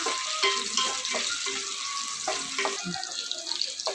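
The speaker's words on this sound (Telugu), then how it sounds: "పచ్చిమిర్చి అయితే మంచిగా ఫ్రై అవుతున్నాయండి కొంచెం ఫ్రై అవ్వాలి" Green chillies fry in a pan while gongura peanut chutney is being made, giving a soft, steady sizzle broken by intermittent clinks and scrapes of stirring.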